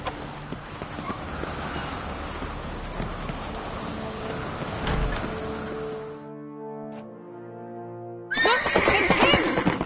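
A horse in The Witcher 3 gives a loud, drawn-out whinny with hoofbeats and steady rain around it, then a brief quiet before another burst of game noise.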